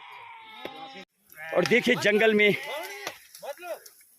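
Goats bleat in a forest in a hilly region where herders graze their flocks, several wavering cries overlapping loudly after a voice, then a couple of shorter bleats near the end.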